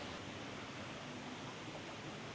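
The Maruba Yabad waterfall in Bali roars as a steady, dense wash of falling water, loud and constant throughout with no voices over it.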